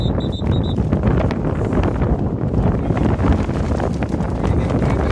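Wind buffets an outdoor microphone at a college sports match between Brandeis and Rutgers, making a loud, constant rumbling roar, with a brief high electronic beeping at the start.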